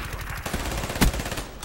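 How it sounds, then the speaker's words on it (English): Rapid automatic gunfire from an HLX4 weapon in a shooter video game, a fast continuous rattle of close shots with one louder burst near the end. "this gun is insanely good. Like, the fire rate makes this thing fantastic"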